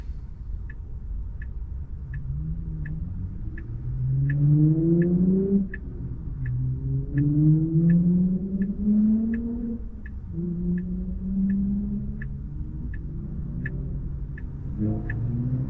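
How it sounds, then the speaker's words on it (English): Car engines revving at night on a road near a stoplight in the Porter and New Caney area of Texas: repeated rising engine revs cycling up through gears, moderately loud, over a steady rhythmic ticking inside the car. "Hear those engines start revving."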